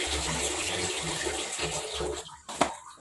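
Water runs from a tap into a washbasin being filled for handwashing clothes, a loud steady splashing rush that cuts off near the end with a short clunk.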